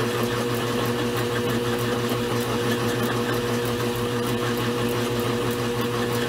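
Goodell Pratt Model 494 lathe running steadily while a thread is cut off the workpiece, a continuous close mechanical hum with a whirring buzz that holds even throughout.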